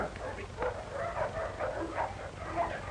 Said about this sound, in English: Sorry about the dog, Sergeant.